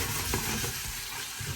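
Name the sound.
frying curry paste in hot oil for prawn curry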